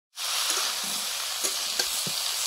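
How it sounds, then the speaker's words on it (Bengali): Winter vegetables fry in a kadai with a close, bright sizzle that starts abruptly and carries on steadily, with a few soft stirring knocks and no speech. "ঢাকা দিয়ে দিয়ে সব সবজিগুলো ভাজা ভাজা করে নিচ্ছি"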